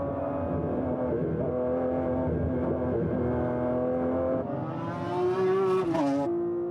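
McLaren F1 GTR race car engine at Anderstorp Raceway, a loud sustained howl that holds steady, then climbs sharply as the revs rise before dropping back, close and continuous with no voices.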